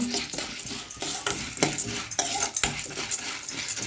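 Chutney ingredients frying and being stirred in a pan until golden: a crackling sizzle underneath repeated metallic scrapes and clinks of a spoon against the pan, close and busy.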